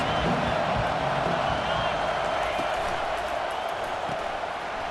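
Stadium crowd noise in EA Sports College Football 25 swells steadily on a big third down, a dense continuous roar of cheering fans with occasional whistles and faint whoops, sustained at high level throughout.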